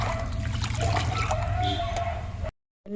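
Rice flour being stirred into water in a bucket, a continuous sloshing, trickling swirl of liquid close by that stops abruptly near the end, with a brief splash after the pause.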